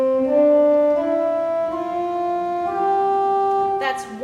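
Pipe organ sounding a principal stop, sustained chords shifting step by step with clear harmonic tones, loud and steady, ending in a brief noisy release.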